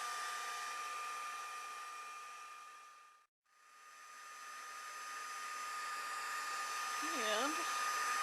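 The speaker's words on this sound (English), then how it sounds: "I'm going to go ahead and heat emboss this." Heat tool blowing hot air onto a card to melt embossing powder: a steady loud whoosh with a whining motor tone, cut off briefly for a moment, then resuming, and a faint squeak near the end.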